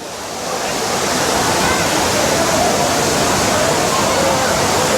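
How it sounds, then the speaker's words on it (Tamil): The Aintharuvi (Five Falls) waterfall at Courtallam roars as a loud, steady, dense rush of falling water that fills the scene continuously from near by. "ஐந்து அருவியில் எப்படி தண்ணி கொட்டுது பாருங்கள்"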